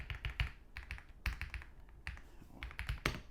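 Fingers type on an Ajazz AK820 Pro mechanical keyboard fitted with smooth, quiet linear Gift switches, giving quick, soft, uneven bursts of key taps and thocks, close but fairly faint, with no talking.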